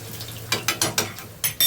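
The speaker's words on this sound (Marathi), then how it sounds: "तर हे बघा आपलं लसूण आणि आलं मस्त असं शिजलेलं आहे." Garlic and ginger cooking in a pan, heard as a string of short scraping stirs and crackles, about six distinct strokes close by with no talking.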